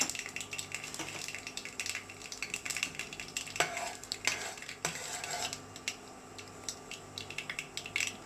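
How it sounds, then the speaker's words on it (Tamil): Fenugreek seeds crackling in hot oil with popped mustard seeds for a Tamil fish curry, a steady close sizzle with frequent metallic stirring clinks and scrapes against the pan. "இப்போ வந்து வெந்தயம் போடலாம்."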